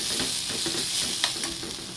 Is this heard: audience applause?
no